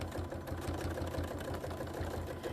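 A sewing machine stitching free motion quilting on an appliqué piece, a steady, fast mechanical hum and patter running evenly throughout, fairly quiet and alone.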